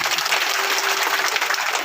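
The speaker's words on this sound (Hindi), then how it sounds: "अब अपने लिए ताली बजाओ।" Audience at a Shiva Mahapuran katha religious discourse clapping steadily for about two seconds, a dense continuous patter of many hands with no voices on top.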